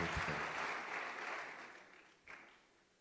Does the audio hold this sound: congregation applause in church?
yes